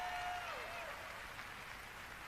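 Audience applause at the E3 2019 Bethesda showcase, a steady wash of clapping from a large crowd filling the space at an even, moderate level.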